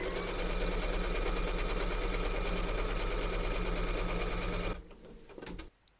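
Embroidery sewing machine stitching a quilting round of a background in yellow thread, a fast steady mechanical chatter that runs loud and close, then stops abruptly, followed by a few faint clicks.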